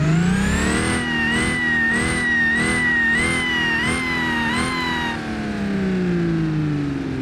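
A modified truck engine in BeamNG, running 80 psi of boost with a 5,000 RPM limit, revs repeatedly in rising and falling pulls, loud and close, with a whining tone sweeping up and down before settling.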